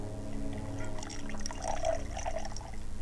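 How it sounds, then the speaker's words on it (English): Liquor poured straight from the bottle into a glass holding a few ice cubes, a steady close pour with faint clinks, over a low background hum. "That was the booze going into the glass."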